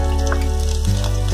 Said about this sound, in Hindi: सबसे पहले मैंने इसमें जीरा डाला